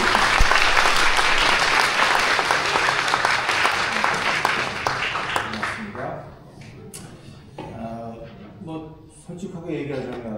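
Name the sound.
applause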